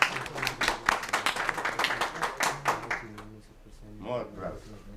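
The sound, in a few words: audience applause at hospital seminar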